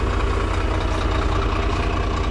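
A mixer truck's engine runs steadily while driving, a loud continuous low rumble with a constant throb filling the cab, no voices.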